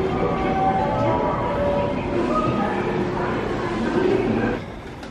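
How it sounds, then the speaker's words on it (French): Train at a railway station in Wakayama, Japan, a steady low rumble and hum of the rolling stock with faint squeals, and people talking in the background. "je suis maintenant à la gare ferroviaire"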